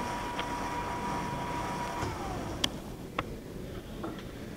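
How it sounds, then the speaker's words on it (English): A Deckel universal horizontal/vertical mill runs with its spindle turning, giving a steady mechanical hum and whir with a few faint ticks and clicks. No one speaks. "We're running the spindle right now."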